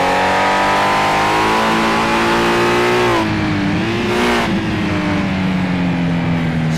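A car engine in a racing video game idles with a steady, rich harmonic hum, dipping slightly in pitch midway before settling back into its loud, even drone.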